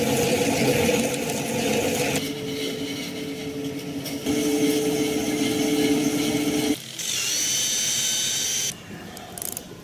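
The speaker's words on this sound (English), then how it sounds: "attach the motor to the shredder so it will turn around" A small homemade plastic shredder turned by an attached electric motor gives a steady, loud mechanical whir and grind that shifts in pitch and texture a few times, easing off near the end.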